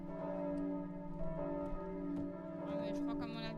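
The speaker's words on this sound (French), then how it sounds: "le bruit des cloches" Church bells ring on and off in a steady, sustained peal with long resonant tones, heard at moderate distance outdoors, with a few voices talking quietly beneath them.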